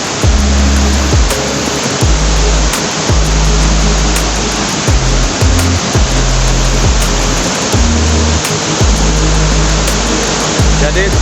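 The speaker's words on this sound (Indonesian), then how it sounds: "kondisi suasana terkini dari air terjun Pondok Lengki di daerah Baseh" Water at Pondok Lengki waterfall in a forest near Baseh, Banyumas Regency, pours down in a loud, steady rushing roar that fills the whole clip, with low droning tones running underneath.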